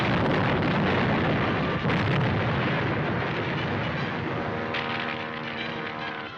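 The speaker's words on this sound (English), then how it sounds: "The bomb got that other plane." A bomb explodes against a plane in an old radio drama, a loud, sustained booming roar that rumbles on and slowly fades, with no talking over it.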